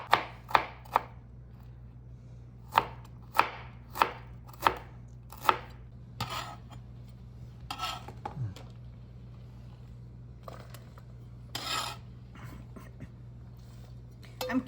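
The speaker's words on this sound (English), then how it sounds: "I'm slicing it very thinly" A knife slicing broccoli stems thinly on a cutting board, with a run of sharp, evenly spaced chops early on, then softer, scattered cuts and scrapes over a low steady hum.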